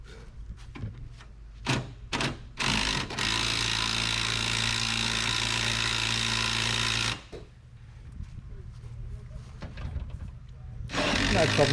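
A battery rattle gun (impact wrench), standing in for a broken drill, drives the legs of a camper canopy on a ute, a loud sustained whirring burst of about four seconds after short hammering bursts, with quieter handling noise around it.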